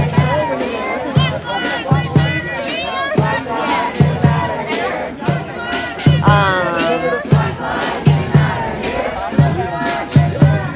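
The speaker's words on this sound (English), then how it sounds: "Like it's still like just consistently chanting." A street crowd chants steadily in rhythmic, repeated shouts, loud and close, with the massed voices continuing unbroken for the whole stretch.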